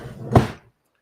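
A drawer bumps shut with a single dull wooden thud and brief rattle, close by, followed by silence.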